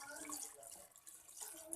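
Water pours steadily into a pot of potato and mutton curry (aloo gosht salan), a near, continuous splashy trickle with no talk over it.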